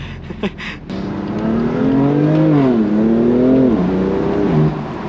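A BMW M2 Competition drives on the road, its engine rising in a loud, close, droning pitch that sweeps up and down, with crackling burbles from the exhaust at the start.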